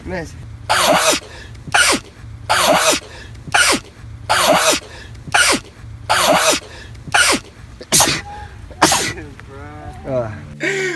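A man sneezes repeatedly, a string of about nine sharp, loud sneezes in a steady rhythm, close to the microphone, followed by brief vocal sounds at the end.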